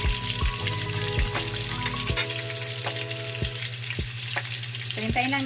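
Pork belly pieces for lechon kawali crackle and spit loudly in hot oil, a dense, continuous frying sizzle with sharp pops and occasional clinks of a utensil, no voices.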